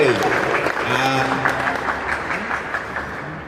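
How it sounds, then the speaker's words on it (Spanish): Applause for the blue team at a youth conference fills the room, steady clapping from a crowd with talk running underneath, sustained and moderately loud throughout. "Un aplauso fuerte para el equipo azul."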